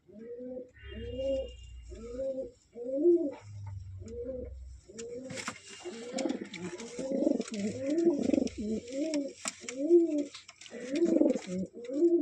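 Domestic pigeons, a hen and cock pair, coo in a steady run of repeated low throaty phrases, close and clear, with a few faint chirps and some rustling behind the rhythmic calls.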